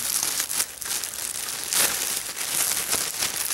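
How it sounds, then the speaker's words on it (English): Plastic packaging crinkles and rustles close up while a Chicago Bears jersey is unwrapped, in irregular bursts of crumpling with a sharper tearing crackle midway. "let me try to unwrap it real quick"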